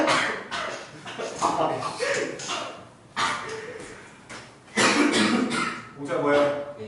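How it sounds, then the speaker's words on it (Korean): A few short, deliberate-sounding coughs and throat clears come close to the microphone amid ongoing talk from several people. "가까이 오면 일부러 기침하는 거 봐 이거"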